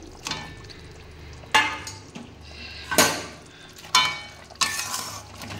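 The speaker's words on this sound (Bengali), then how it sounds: "জল ফুটে গেছে, এবার মাছ ভাজাগুলো দিয়ে দিলাম" Fried rui fish pieces drop into a pot of boiling water, giving several loud splashing clatters spaced about a second apart over a steady bubbling simmer, with no talking.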